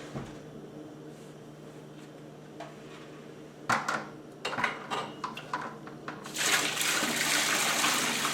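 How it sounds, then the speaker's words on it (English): Homebrew beer wort with pumpkin sloshes and pours with a few clunks of a pot as the pumpkin is strained out, then a steady rushing stream of liquid running through at the end. "We're straining out the pumpkin."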